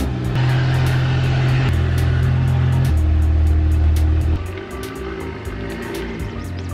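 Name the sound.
BMW F30 car engine first startup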